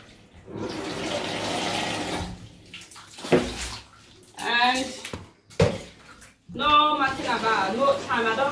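A cooking pot used to pour water over a bathtub to rinse it, with splashing and sloshing bursts in several pours between stretches of someone talking.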